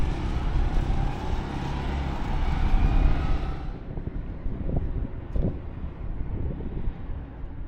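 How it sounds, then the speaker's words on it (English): Wind blows in a broad, steady rush along the Colorado River basin near Laughlin, loud and buffeting the microphone at first, then easing and becoming lower and rougher. "Wind picked up pretty good."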